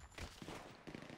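Gunfire rattles in a GTA V shootout, a faint quick burst of several shots in rapid succession.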